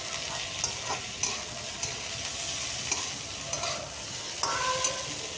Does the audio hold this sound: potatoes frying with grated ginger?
yes